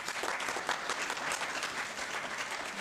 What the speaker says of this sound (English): Let's give them a round of applause for coming.